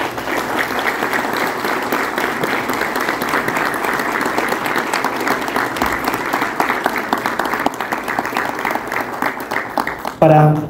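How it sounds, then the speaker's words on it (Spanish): Sustained audience applause at a Costa Rican government event with a vice minister, dense steady clapping for about ten seconds, with a brief louder burst near the end. "quienes merecen un aplauso son ustedes"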